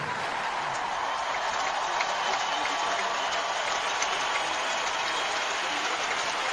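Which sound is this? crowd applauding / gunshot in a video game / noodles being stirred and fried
crowd applauding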